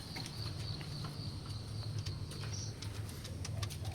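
Pet pigeons in a cage coo steadily in low, soft, rolling murmurs, close by and continuous, with a high bird-like whistle running behind and a few light clicks and taps.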